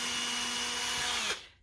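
A power drill bores a hole in a wall for a butterfly wall hook, one steady high whine running loud and close for over a second, then stopping abruptly and fading out.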